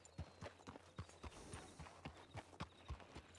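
Horse hooves clip-clop at a steady walking pace in a ranch role-play video game, a quiet, regular series of distinct clops with faint ambience between them.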